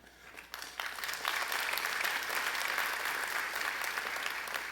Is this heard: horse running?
no